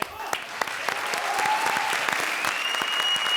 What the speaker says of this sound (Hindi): जोरदार तालियां हमारे लिए.